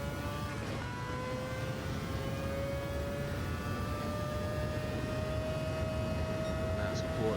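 A Mazda 787B race car at Fuji Speedway in Gran Turismo 7, running on nitrous boost: a steady high-pitched rotary engine whine climbing slowly in pitch under continuous road and wind noise.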